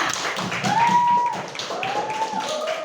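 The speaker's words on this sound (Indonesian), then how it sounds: "beri aplaus dulu untuk kelompok 2" Students in an Indonesian classroom give a group a round of applause, a short spell of scattered clapping with a voice talking over it.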